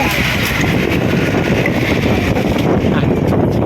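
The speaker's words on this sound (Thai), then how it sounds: "ลมปูมาแล้วนะครับ" Strong wind blasts steadily into an outdoor microphone near a high hut, a continuous loud roar of gusting air across the whole stretch with no break.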